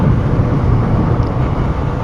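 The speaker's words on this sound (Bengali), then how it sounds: "এখন যদি আবার ইঞ্জিন ব্রেক করি," A motorcycle engine braking with the clutch released, a steady low droning rumble of the engine and road noise, close and fairly loud throughout.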